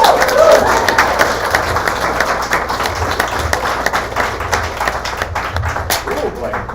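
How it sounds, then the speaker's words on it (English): Audience applause at a Space Drafts science talk night, steady clapping from a crowd filling the room, with some chatter and voices mixed in throughout. "One more round of applause for Sarah."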